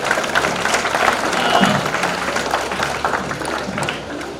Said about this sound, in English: I just want to clap for everyone over here.